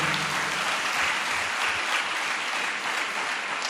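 Loud, dense clapping from a congregation at a Sunday church worship service, a steady wash of many hands sustained throughout without pause.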